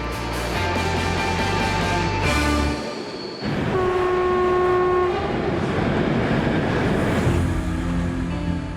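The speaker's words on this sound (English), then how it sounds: "workers rely on this super tough cargo train" A cargo train hauling lumber rumbles along with steady rolling clatter, its horn sounding in several long, tonal blasts, loud and fairly close.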